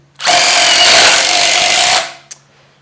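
A Milwaukee M18 or M12 cordless drill drives a screw into wood in one loud, close, steady whir lasting nearly two seconds, followed by a brief click.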